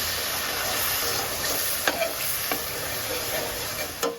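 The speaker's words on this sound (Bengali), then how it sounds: "আবারও ভালোভাবে নাড়াচাড়া দিয়ে নিচ্ছি।" Spices with turmeric, chili powder and ground coriander are stirred in a hot pan under a steady frying hiss, with a few soft scrapes and clicks of the spoon against the pan.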